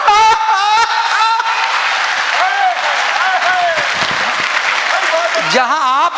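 An audience at a comedy poetry recital claps in a broad, steady wash, heard under a prominent voice that speaks over much of the applause.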